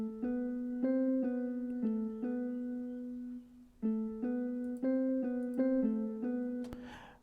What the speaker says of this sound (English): I added a guitar. It's from a very big plugin,